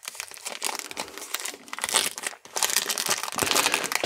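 A crinkly plastic hanger pack of 2015 Series 1 baseball cards being torn open, heard as loud, close, continuous crackling and crinkling with short tearing bursts and no talking.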